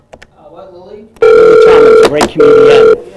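A telephone rings on a call-in line during a live broadcast, one long ring burst, a brief break, then a second burst, loud and close, with a voice speaking just before.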